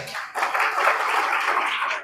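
An audience claps steadily at an award ceremony honouring meritorious students and retirees, a dense burst of applause lasting about two seconds before it fades.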